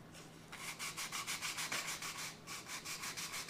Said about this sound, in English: you're going to bevel sand each one of these